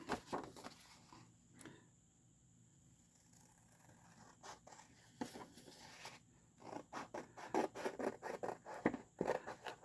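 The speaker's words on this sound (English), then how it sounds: "pair of scissors" Scissors snipping through cardstock and scrap paper while a handmade greeting card is cut out, giving a run of close, crisp cutting and scraping strokes that grows busier and louder toward the end after a quieter stretch.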